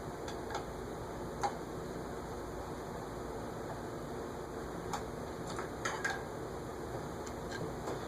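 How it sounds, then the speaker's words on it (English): A faint, irregular ticking rattle over a soft steady whir from an Evergo (Montgomery Ward) ornate GE vent ceiling fan, with scattered small clicks across a quiet room. "I'm going to see if the noise, the rattling goes away."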